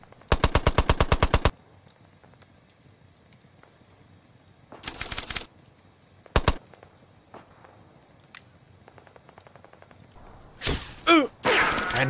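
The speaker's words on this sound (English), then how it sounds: "Set up and loaded, the Vickers team aim carefully at the rival machine gun team." Vickers machine gun firing in a tabletop battle sound effect: three rapid, loud bursts, a long rattle, a second shorter burst and a brief clipped one, followed by a few sharp whip-like cracks at the end.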